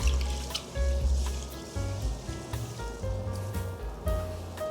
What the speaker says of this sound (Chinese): 这里是2杯白米的分量，先来清洗，大概清洗2-3遍。